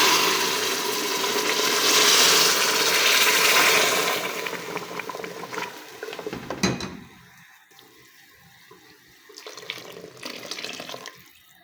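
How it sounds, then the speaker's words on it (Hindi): Hot water pours into a pressure cooker of shaljam methi gosht, a loud rushing splash for about four seconds that fades out, followed by quieter clinks and handling sounds. "अब हम इसके अंदर पानी डाल देंगे इसे प्रेशर देने के लिए।"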